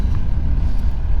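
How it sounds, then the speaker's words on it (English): Heavy traffic noise on a small-town street in Ridgway, Colorado, where semi-trucks rumble past with a loud, steady low engine drone close at hand, no voices. "semi-trucks, engine braking, tends to be a little bit noisy"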